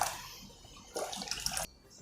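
Water poured into fresh juice during a three-juice recipe, heard as a bright, splashy pour that swells after a quieter stretch, runs steadily for about two-thirds of a second, then stops abruptly.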